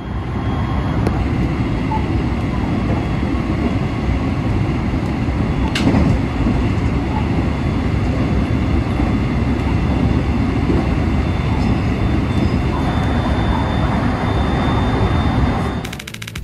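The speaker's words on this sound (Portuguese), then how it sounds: "o professor japonês Akiyoshi Kitaoka filmou essas cenas da cabine de um trem" Train running, heard from inside the driver's cabin: a loud, steady rumble and rattle of wheels on rails that continues throughout, with one sharp knock partway through.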